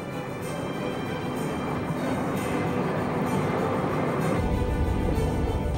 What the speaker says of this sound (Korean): 이창훈 과장은 신칸센 열차에 올랐다